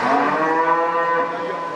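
Simmental cattle at a livestock market in Erzurum let out one long, loud, sustained moo, its harmonic tone steady through the call and trailing off slightly at the end.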